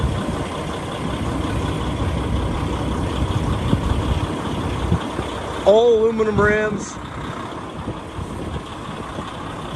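A 2013 Kenworth T660 truck idles with a steady, moderately loud diesel rumble, while someone briefly talks over it partway through.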